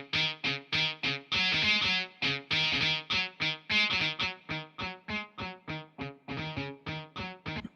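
Music with a gritty distortion effect, choppy rhythmic bursts of buzzy, grainy tones repeating in a steady pattern.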